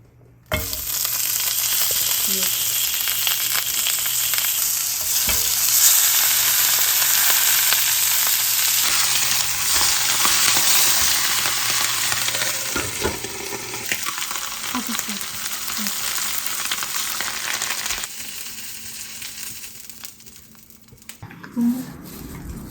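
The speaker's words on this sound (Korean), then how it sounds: "이게 베이컨 구웠던 팬인데 여기다가 그대로" Steady broadband sizzle of food frying in a pan still greasy from cooking bacon, loud and close for most of the stretch, then easing down near the end with a few soft clinks and faint background voice.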